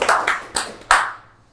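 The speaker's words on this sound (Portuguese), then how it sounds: "uma salva de palmas para o Lutércio!" Four sharp hand claps ring out in a small studio for a podcast guest, close and uneven, the last one loudest, then they fade into quiet.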